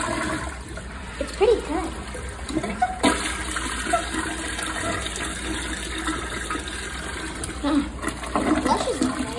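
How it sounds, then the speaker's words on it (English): A toilet flushes and keeps running with a continuous rush of water, along with gurgles and splashes, while people talk over it. "It's not very good at flushing"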